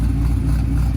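A freshly built forged 6.0 V8 in a Camaro idles steadily with a deep, low rumble and a constant, even loudness throughout, with no talk over it.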